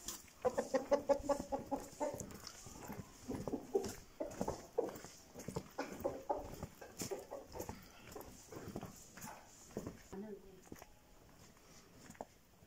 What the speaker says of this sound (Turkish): Köyün horozu.